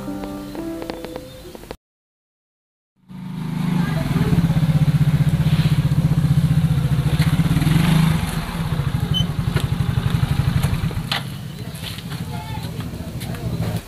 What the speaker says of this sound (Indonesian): nih bapak beliin motor nih